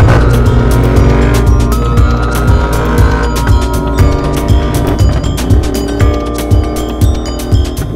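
Royal Enfield 650 twin motorcycle with a custom two-into-two stainless steel exhaust, running loud and close with a steady engine drone and repeated throttle pulses, underneath a layer of music.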